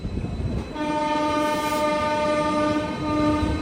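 The Kondaveedu Express, bound from Yeshwantpur, rolls along the track with a steady loud rumble under a sustained blaring horn that holds for several seconds, and no one speaks.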